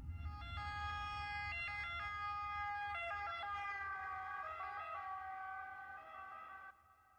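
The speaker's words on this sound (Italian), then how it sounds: "L'eco di un'ambulanza." An ambulance siren wails in a steady two-tone pattern over low traffic rumble, loud and close, fading out near the end.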